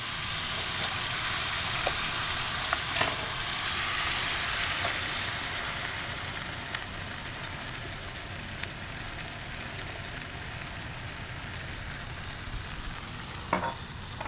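Onions, garlic and jalapeno simmering with Coke in a pan give a steady, close bubbling sizzle with a few clinks of utensils, and no voices.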